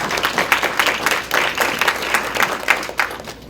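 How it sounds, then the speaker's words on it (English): A crowd claps and applauds steadily throughout, a dense patter of many hands at moderate distance, with no talking over it. "So give a round of applause for that."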